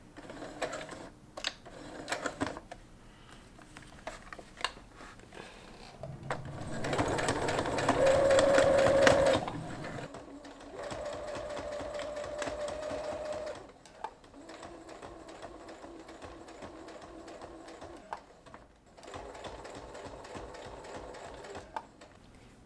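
A sewing machine stitching a hem on a pair of pants, running in bursts of rapid mechanical whirring and clatter, with a loud, sustained stretch in the middle and quieter runs after.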